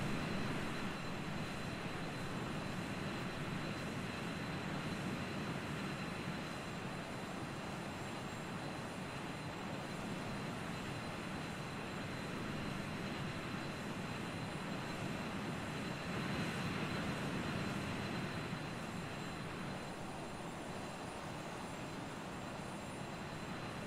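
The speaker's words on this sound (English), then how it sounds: "This is a handsome plane." A steady, continuous engine drone from inside a small plane in flight between Edmonton and Billings, a broad, even roar with faint tonal hum running for the whole stretch without talk.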